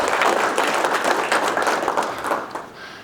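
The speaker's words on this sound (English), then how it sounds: "You give them a round of applause." Steady applause from a sizable crowd at a school district address, dense clapping that holds for a few seconds before tapering off near the end.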